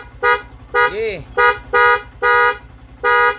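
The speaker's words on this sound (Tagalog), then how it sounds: "Yun, loud horn." A Sniper 150 motorcycle horn sounds loudly in six short, steady honks, one blast interrupted by a brief wavering electronic chirp, with a quiet engine idle running underneath.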